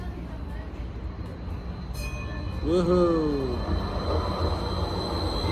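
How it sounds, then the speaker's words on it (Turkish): A city tram pulls into a street stop, its rumble steady under traffic noise with a brief bright metallic wheel squeal and a rising whine in the middle, while a person shouts a short cheer nearby. "Şimdi tramvay geldi."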